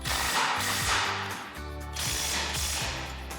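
A ratchet socket wrench working control arm bolts on a Jeep Wrangler JK, with loud continuous rapid clicking that pauses briefly in the middle and then resumes, heard up close.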